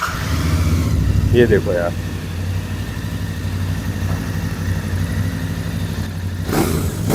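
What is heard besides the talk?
Royal Enfield Bear 650 motorcycle exhaust revving in showroom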